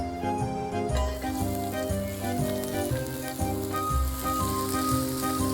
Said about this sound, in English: First, we're gonna throw our onions in.